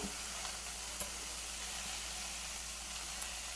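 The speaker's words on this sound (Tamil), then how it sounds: "இதை அப்படியே போட்டு வதக்கி எடுத்துக்கலாம்." Finely chopped coriander leaves sautéing in a pan for coriander thokku, a steady close sizzle and hiss with a few faint clicks of stirring, no talking.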